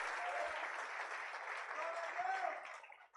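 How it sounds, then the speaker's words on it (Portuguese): A church congregation applauds during a Holy Communion service. The clapping is soft and distant, with a murmur of voices within it, and it fades out at the end. "Pode aplaudir ao Senhor."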